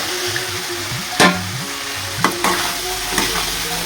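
Soybean chunks frying in oil in a pan, stirred with a few sharp scrapes and clacks over a continuous close sizzle.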